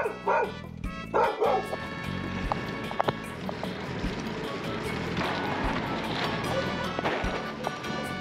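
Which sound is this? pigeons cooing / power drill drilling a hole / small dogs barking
small dogs barking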